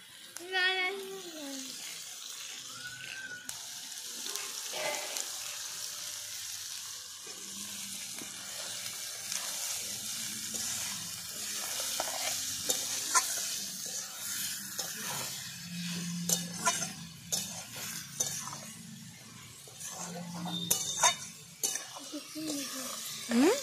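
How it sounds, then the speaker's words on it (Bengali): Onions fry in a pan at a family picnic, giving a soft continuous sizzle with stirring clatter, while people talk over it and a voice occasionally joins. "পেঁয়াজ ভাজা।"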